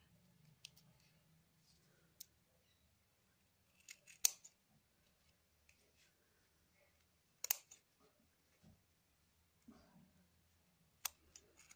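Scissors snipping through wound yarn at the centre of a cardboard pom pom maker, heard as a few sparse, sharp cuts spaced seconds apart against a very quiet background.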